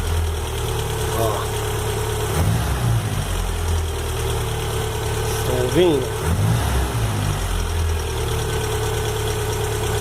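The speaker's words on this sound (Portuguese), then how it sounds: "esse barulho no motor, esse tec-tec-tec, ó." A rebuilt VW AP car engine with a new hydraulic-lifter cylinder head idles steadily, a fast ticking tapping running through it once warm, with someone speaking briefly over the noise.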